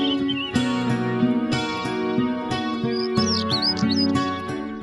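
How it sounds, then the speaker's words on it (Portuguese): Native birds at a bird breeding facility chirp and tweet in quick, bright calls over a steady tonal backdrop, with short high trills layered throughout. "você vai conhecer um criadouro de pássaros nativos"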